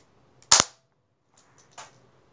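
A Nerf toy blaster fires two sharp snapping shots, a loud crack followed by a softer second pop about a second and a half later, in an otherwise quiet room.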